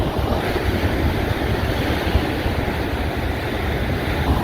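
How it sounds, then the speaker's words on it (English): Loud, continuous roar of ocean surf crashing against rocks, mixed with heavy wind buffeting the microphone, with no voices. "here's the status of the waves right now. Look at them. They're getting ferocious."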